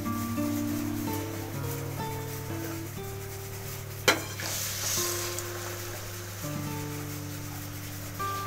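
Boiled water goes into a hot pan with cardamom powder for a sweet breakfast dish: a sudden loud splash and burst of sizzling mid-clip, amid ongoing frying and stirring sounds, no talk.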